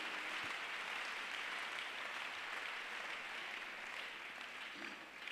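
A congregation at a prayer meeting applauds in steady, dense clapping that fills the room for several seconds, holding at an even level and easing slightly at the end.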